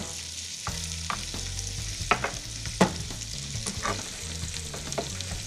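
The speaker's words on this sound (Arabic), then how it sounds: "حطيت البصل الجوانح ليدبل" Sliced onions sautéing in a pan over low heat, a soft continuous sizzle close by with intermittent stirring scrapes and clacks, no voices.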